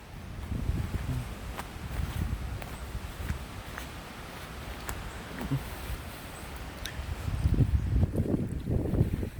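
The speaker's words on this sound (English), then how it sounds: "Still a bit breezy, so you kind of still probably gale force winds actually." Gusty near-gale wind rushes through trees in Hartlin Settlement after Hurricane Fiona, a continuous rustle of leaves and branches with rumbling microphone buffeting that swells louder toward the end.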